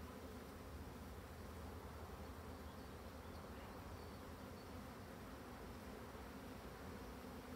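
A colony of agitated black honey bees drones in a dense, continuous buzz, an even swarm-wide hum with no talk over it.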